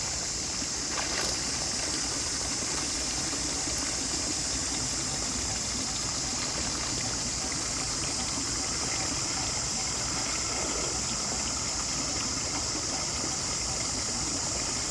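Water flows gently at a large pond after rain, a steady close trickling rush that holds even and unbroken throughout, with no voices.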